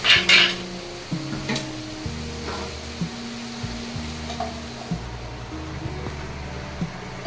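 A lid clatters onto a pan of brinjal-and-potato bhaji, a quick metallic clank at the start, followed by a steady low sizzle of frying and a few light clinks.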